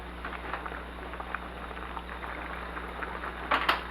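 Pot of fish stew at a boil, a dense steady bubbling and soft popping patter close by, with a short louder clatter near the end and no talk.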